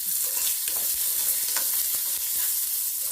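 Small and large onions sauté together in a pan, giving a steady, close frying hiss broken by repeated scraping strokes from stirring, with no talking.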